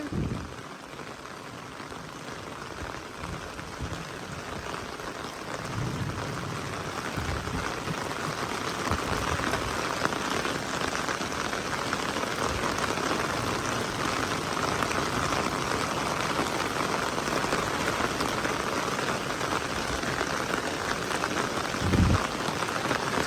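Heavy storm rain pours steadily with a dense hiss of drops and running water flooding a street, continuous throughout, a few louder splashes near the end.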